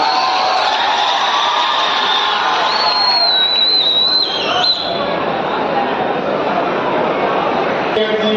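A large audience at a Hindi comic poetry gathering in Mithila claps and cheers to welcome arriving officials. The sustained, dense crowd noise has a brief whistle-like tone partway through, and voices mingle with it.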